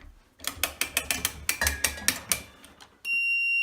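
On a Dillon Super 1050 reloading press, about a dozen quick, close ratcheting clicks from the cycling mechanism are followed by a steady, loud electronic beep from the powder check alarm that continues to the end.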